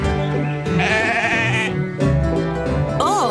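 A stubborn sheep on a farm bleats in a long wavering cry, loud and close, followed by a shorter rising bleat, with no talking over it.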